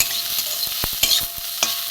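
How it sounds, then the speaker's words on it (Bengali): Flowers fry with salt and turmeric in a pan, a loud close sizzle punctuated by several sharp scraping knocks of a spatula stirring against the pan. "নুন আর হলুদ একটু ভালো করে ভেজে"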